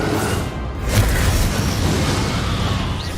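Bombarda explosion spell in Hogwarts Legacy, a deep booming burst followed by a dense rumbling roar that carries on loudly to the end.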